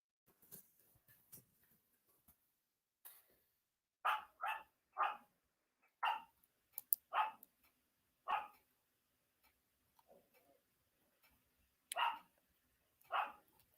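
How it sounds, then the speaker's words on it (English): Dogs bark in short, separate bursts, some in quick pairs, at moderate distance against a quiet background, with gaps of silence between. "my dogs be getting on my nerves and stuff so freaking bad. All that barking."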